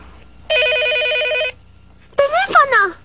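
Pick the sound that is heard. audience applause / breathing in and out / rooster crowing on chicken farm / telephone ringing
telephone ringing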